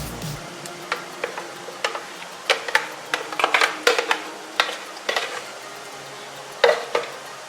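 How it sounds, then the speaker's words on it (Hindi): Ground lentils for chicken haleem mixed in a pot, a spoon knocking and scraping against the metal in irregular clicks and clatters, close and clear with no voices. "सारी दाल को अच्छी तरह से मिक्स करते हैं।"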